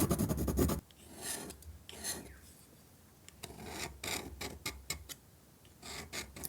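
Watercolor paint being scratched with a tool on paper: repeated short dry rasping strokes, close and quiet, with pauses between them.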